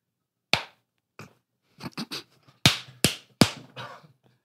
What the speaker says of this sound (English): They weren't very loud claps.